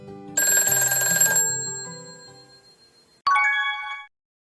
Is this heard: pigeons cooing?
no